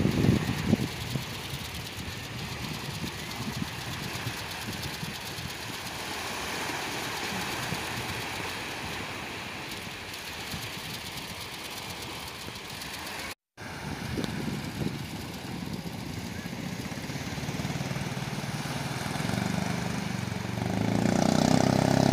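A steady motorboat engine drones continuously at moderate distance on the sea, with water and wind noise mixed in and a brief dropout midway.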